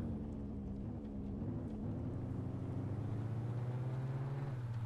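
A car engine in the game Mon Bazou revs sluggishly in second gear, giving a steady, droning hum whose pitch slowly climbs. It is moderately loud, with no talking.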